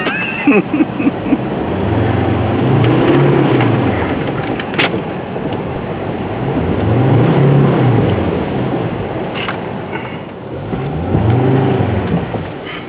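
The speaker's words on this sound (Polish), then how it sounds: "a nam tylnie koło się cały czas kręci" A Jeep WJ stuck in mud with its engine revving in repeated swells as the rear wheel spins, three drawn-out rising and falling surges over a steady low rumble, heard from close by.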